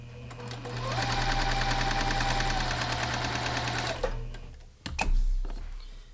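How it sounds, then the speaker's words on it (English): A sewing machine stitching fabric runs in a steady, close mechanical whir for about four seconds, then stops, followed by a short clunk and a brief burst of handling noise. "Back here on my sewing machine"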